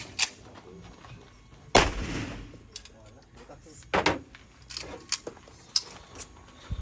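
Gunshots ring out while an anting-anting amulet is tested, with a sharp loud crack followed by a few more scattered bangs and clatters. Voices and handling noises fill the gaps.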